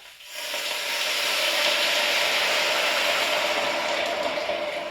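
Red wine poured into a hot pot of red cabbage sets off a loud, close, steady hissing sizzle that rises quickly and holds for several seconds, with no voice over it.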